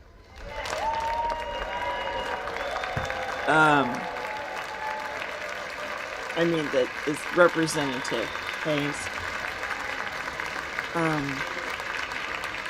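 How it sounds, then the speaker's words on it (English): Members in a legislative chamber applaud intermittently in the background while someone talks over it nearby, with short bursts of clapping rising and fading beneath his voice. "They're clapping"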